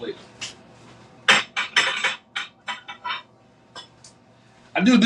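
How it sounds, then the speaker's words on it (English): Ceramic plates and dishes clattering and clinking in a home kitchen as another plate is pulled out while making grilled cheese and tomato soup, in several close bursts with a louder clatter at the end. "Let me get another plate."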